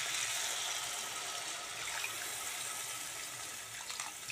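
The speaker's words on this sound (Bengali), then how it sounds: "এবার আমি জল ঢেলে দিই।" Water poured into a pan of potato and rohu fish curry, a steady continuous splashing rush, close and fairly loud, with no talk.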